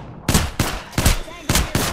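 Automatic weapon fire in the video game Apex Legends, loud close bursts in several rapid volleys with short gaps between them, no talking over it.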